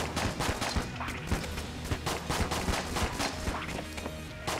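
Rapid starter pistol gunfire in Enter the Gungeon during a fight against the Treadnought boss, sharp shots repeating in quick irregular bursts amid crashes and impacts from the battle, fairly loud and with no talking.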